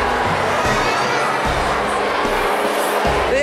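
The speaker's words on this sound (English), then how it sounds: "I guess that's what the big crowd is for." Big crowd at a dinosaur convention in a convention center, a dense steady murmur of many voices with children shouting and occasional low thumps throughout.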